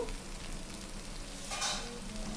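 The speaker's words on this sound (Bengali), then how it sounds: "আমি সেই তেলেই দেখো সেই পোস্ত কাজু রসুন সব ছেড়েই দিয়েছি" Poppy seed paste, cashews and garlic fry in hot oil for a pointed gourd curry, giving a soft continuous sizzle with a brief louder crackle partway through. No one speaks.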